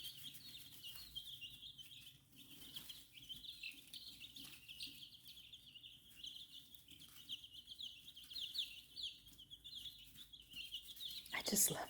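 Baby chicks cheep continuously in a brooder box, a dense chorus of high, thin peeps running steadily throughout, with a brief louder clatter near the end.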